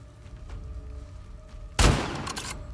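A single sharp gunshot bursts out loud and close in The Last of Us Part 2, ringing briefly before fading over a low ambient game background.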